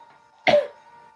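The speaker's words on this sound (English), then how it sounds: "That's stupid cough and bronchitis." A single sharp cough from a person with bronchitis, close and fairly loud, standing out against quiet background.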